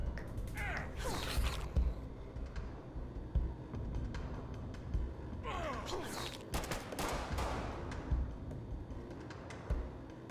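Weapons fire in Fallout Shelter, a mobile game, with bursts of gunshots and mechanical clatter popping and clicking at intervals over a constant low background hum. Two denser clusters of shots stand out, close but fairly quiet overall.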